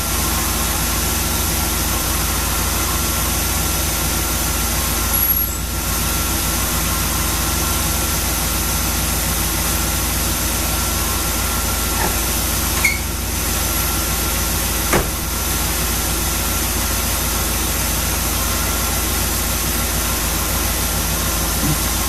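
An engine fitted with a Street Demon 625 carburetor idles steadily on a cold start, a loud, continuous rumble with no change in pace and no voices.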